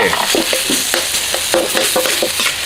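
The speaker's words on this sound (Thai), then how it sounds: "เอาไปคั่วในกระทะไม่ต้องใส่น้ำมัน นี่ คั่วพร้อมกับน้ำพริกแกงเผ็ดเอาไปเลยโอเค" Beef dry-roasts with red chili curry paste in a pan without oil over low heat, loud close sizzling broken by repeated rhythmic scrapes of a spatula stirring, with no voices.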